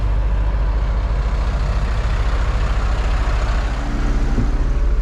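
A farm vehicle, used while swathing wheat and checking crops, drives along with a steady, loud, low engine drone and rumble heard from inside the cab, with no voices.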